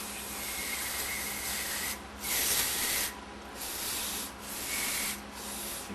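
A corroded pan from a Meyer E-47 rebuild is scrubbed clean in repeated rough rubbing strokes, close and steady, with no talk.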